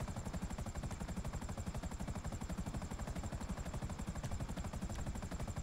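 A helicopter in GTA 5 with dense, rapid rotor chop, loud and steady throughout, mixed with the game's engine drone and no talk.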